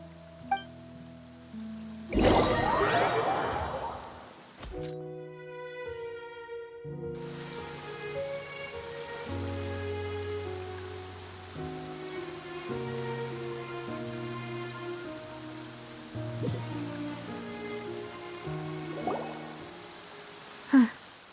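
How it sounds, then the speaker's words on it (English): Steady rain falls in the Genshin Impact video game, a soft continuous patter under slow, sustained musical notes, with a louder splashing burst early on. "It's been raining non-stop for a few days now."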